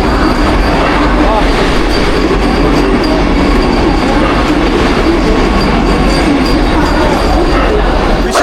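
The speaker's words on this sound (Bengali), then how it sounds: "রাজধানী ভুবনেশ্বরে পৌঁছালো অলমোস্ট 45 মিনিট লেট করে" The Rajdhani Express rolls into Bhubaneswar station, a loud, steady rumble of wheels on rails with rhythmic clatter and faint squeals throughout, close by and continuous.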